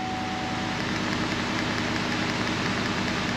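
Cadillac Northstar engine idling steadily after a restart while a P0300 misfire is being diagnosed, a dense continuous rumble with a faint uneven pulse, close and constant, with no talk.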